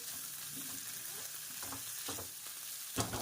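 Potatoes frying in ghee in a pan for sabudana khichdi, heard as a quiet, steady sizzle with soft stirring scrapes and a sharper clack near the end, close by and without speech.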